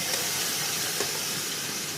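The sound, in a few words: palm oil poured into a heated pot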